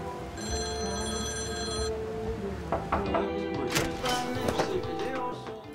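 A mobile phone rings indoors with a bright repeating electronic tone for about two seconds, followed by soft knocks and handling noises as it is picked up, with faint voices in the room.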